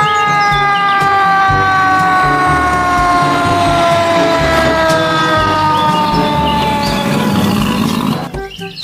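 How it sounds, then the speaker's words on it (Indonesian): A toy fire engine's electronic siren wails loudly and continuously, its tone sliding slowly downward over several seconds before cutting out near the end. "Yang ini ada mobil pemadam kebakaran."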